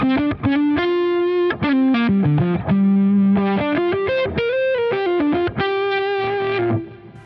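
Electric guitar riffs through a JHS Crimson fuzz pedal, thick fuzz tone, sustained buzzy notes and short chord stabs played loud and close, no voices.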